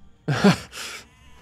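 A sheep in Age of Empires II: Definitive Edition bleats twice in quick succession, a wavering baa followed by a shorter softer one, close and clear against near silence.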